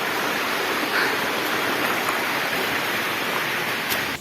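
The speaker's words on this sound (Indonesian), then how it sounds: "Udah ada sungai kelihatan tuh." A river flows along a jungle trek toward Curug Cirengganis waterfall in Sumedang, a steady broadband rushing wash of water heard close and continuous, with no voices over it.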